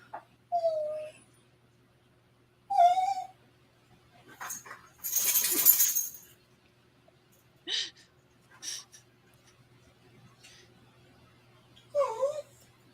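A dog whines and whimpers in short, high, drawn-out cries spaced across several seconds, close by and fairly quiet, with a brief louder rustle between them.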